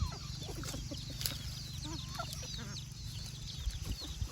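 Several native chickens cluck and chirp in short, scattered calls over a steady low hum, close by and fairly constant.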